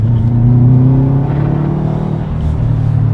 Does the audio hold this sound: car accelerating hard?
yes